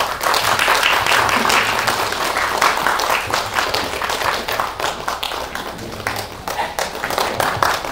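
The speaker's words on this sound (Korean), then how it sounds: "여러분 큰 박수로 맞이해 주시기 바랍니다" An audience at a press screening Q&A for an occult horror film applauds as the director and actors walk onto the stage, loud, dense clapping sustained throughout with little talk.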